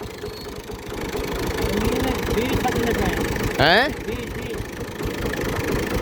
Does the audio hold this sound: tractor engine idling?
yes